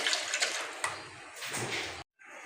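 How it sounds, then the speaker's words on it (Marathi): Water poured into a kadai while preparing khaman dhokla, a steady splashing pour for about two seconds that cuts off abruptly, with a faint clatter afterward. "सर्वात पहिले आपण एका कढईमध्ये आपण पाणी ओतून घ्यायचं आहे"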